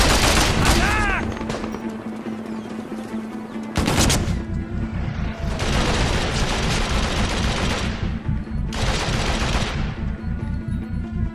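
Rapid rifle and machine-gun fire from the Xbox 360 game Mercenaries 2, loud and dense, with bursts of shots crackling through most of the clip and heavy blasts starting near four seconds, with occasional voices mixed in.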